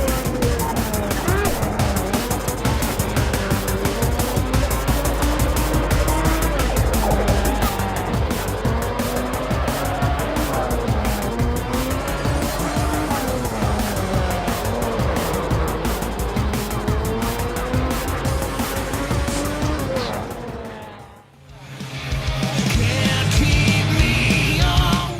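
Car engines roar and tires squeal in a first-person racing video game, a loud continuous whine with rising and falling pitch, briefly cutting out near the end before resuming.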